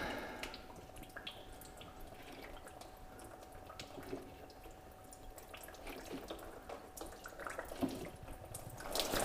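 Diesel fuel trickling and dripping from a loosened fuel filter on a 2020 Chevrolet Silverado 1500 Duramax, a faint steady liquid patter with small irregular drips, heard alone at low level.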